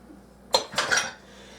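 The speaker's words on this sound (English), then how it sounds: "Now we are going to put this into our dry ingredients." A spoon clinks and scrapes against a bowl as wet muffin batter for cherry and walnut muffins is poured into the dry ingredients, a brief cluster of close, bright knocks after a quiet start.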